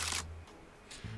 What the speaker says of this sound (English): Why are these shutter sounds getting more chaotic?